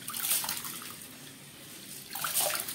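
Rice is swished and rinsed in water, with two louder sloshing bursts at the start and end and quieter splashing between.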